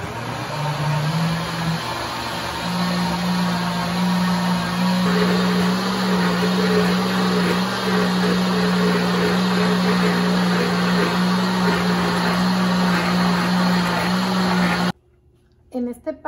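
A blender mixes gelatin for grape jelly, its motor running as a steady loud whir for about fifteen seconds before cutting off abruptly, followed by a brief clunk.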